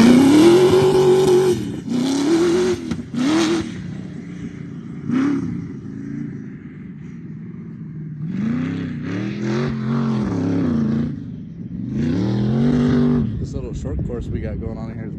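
Volkswagen Bug-engined sandrail revving nearby, with repeated rising and falling engine bursts and throttle blips over about fifteen seconds and a lull in the middle, under people talking.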